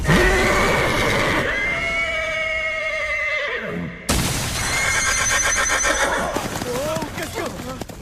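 A horse in the Vinland Saga anime gives two loud, shrill whinnies with clip-clop hooves beneath, and voices talk over the sound.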